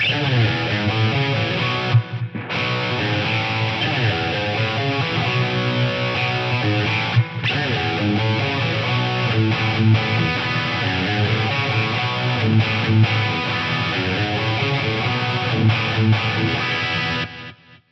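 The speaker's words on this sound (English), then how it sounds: "It's kind of giving you like an old school, almost roomy tape echo kind of thing." Electric guitar run through a Lexicon PCM81 tape-echo style delay, played as a sustained, loud passage with repeating echoes trailing the notes, broken by two short gaps before fading out at the end.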